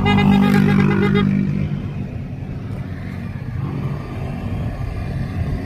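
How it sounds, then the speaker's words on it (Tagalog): A car passes on the road beside a men's individual time trial at the Batang Pinoy–Philippine National Games; its engine hums loud and close at first, then settles into a steady low road rumble. "May incoming na sasakyan."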